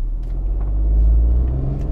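A Chery Tiggo 3x Pro with a 1.0 turbo engine and CVT pulls away hard from a standstill in Sport mode, a loud, close, steady low engine rumble building with no talk.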